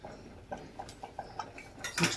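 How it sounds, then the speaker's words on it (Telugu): Metal spoon clinks and scrapes against a pot while stirring potato curry (aloo gadda mantam), a series of light, irregular taps ending in a louder cluster of scraping clatter. "కొంచెం వేసేసుకొని ఒక్కసారి కలిపేసుకోవాలండి"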